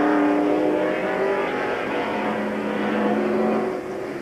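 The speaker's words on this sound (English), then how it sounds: "There is Ward Burton passing by" NASCAR stock car passing on a road course, its engine a steady droning roar with slight pitch shifts, moderately loud and fading a little at the end, no talk over it.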